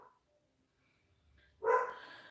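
A dog barks once, a single loud burst up close in a quiet indoor room where someone is making bows by hand.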